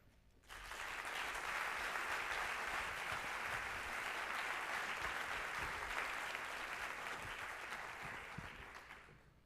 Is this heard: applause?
yes